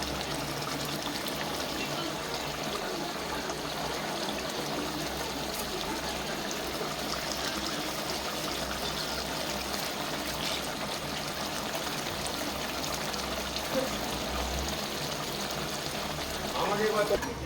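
About two cups of water bubbling at a boil in a Shankar (stingray) fish jhal curry, a continuous close gurgle and churn of liquid that swells slightly near the end.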